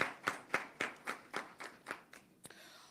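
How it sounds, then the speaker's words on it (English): A few people clapping at a press conference of Jamaica's Education Transformation Oversight Committee, sparse and fairly faint, about nine distinct claps in a loose rhythm that fade out. "So another round of applause to the ministry team."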